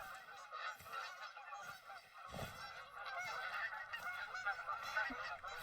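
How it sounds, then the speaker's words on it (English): Many geese honk loudly overhead in a dense overlapping chorus in the video game TheHunter: Call of the Wild, with a low thud partway through and a steady honking that continues throughout. "that's geese going overhead"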